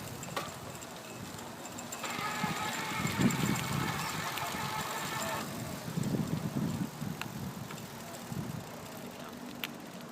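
Electric whir and chain friction from an eZip Skyline e-bike's external brushed geared motor under pedal assist, a steady mechanical hum with rattling that swells and fades, moderately loud and close, with no talking.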